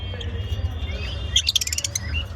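A parblue lovebird gives a quick burst of sharp, bright chirps about midway through, over a steady low hum and faint background noise from a bird-keeping room.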